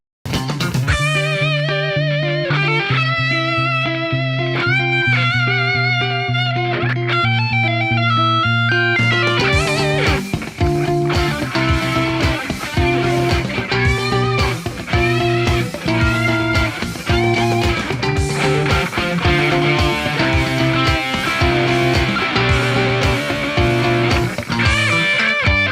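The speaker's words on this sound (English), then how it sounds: "Guitar battle challenge." Heavily distorted electric guitar riffs played loud and continuous in a guitar battle, a sparse, chiming opening giving way to dense, fast chugging and lead runs after about nine seconds, with no voice.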